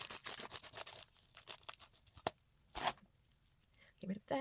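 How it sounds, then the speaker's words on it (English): A shipping package top is cut open, with a series of close, crisp tearing and crinkling bursts of cardboard and plastic, uneven in rhythm, while a person talks through it. "Just cut off the top here, like so."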